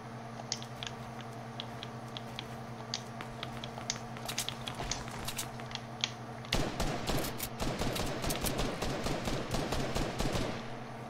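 A fast burst of repeated sniper rifle gunfire in a video game erupts midway, sharp cracks piling up in rapid succession over a steady droning hum.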